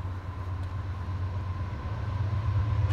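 A CSX freight train with two engines rumbles past in Winder, Georgia, with a steady low engine drone and faint rail noise, growing slightly louder toward the end.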